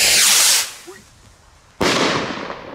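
Small New Year's Eve firecrackers go off outdoors. A loud crackling burst fades out and a second sharp bang hits a moment later and rings on, heard close.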